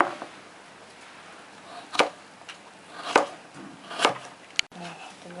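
A knife chops carrots into halves on a cutting board for Korean tteokbokki, with four sharp, evenly spaced thuds against a quiet background and one brief click at the end.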